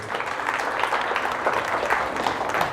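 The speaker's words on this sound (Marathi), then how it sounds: "एकदा आपल्या आईसाठी जोरदार टाळ्या वाजवा." Enthusiastic applause from an audience at a Marathi home-minister game show, steady dense clapping filling the whole stretch at fairly close range without a voice over it.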